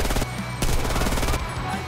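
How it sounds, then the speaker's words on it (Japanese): Rapid bursts of MP41(r) submachine gun fire in the World War II shooter Enlisted crack close by in quick succession, dense and loud, with a brief voice in the mix. "銃声が近いということで"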